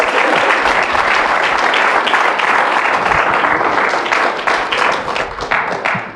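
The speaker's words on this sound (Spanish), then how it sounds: "Denle un aplauso a la gloria de Dios." A church congregation breaks into sustained, dense applause during a Spanish-language sermon, loud and steady before easing off toward the end.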